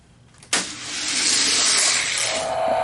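Hot Wheels die-cast toy cars, a Chevy Camaro Z28 and a Lamborghini Aventador, race side by side down a downhill drag track. A sudden start gives way to a close, loud, steady rolling rush that lasts about two seconds and then eases off.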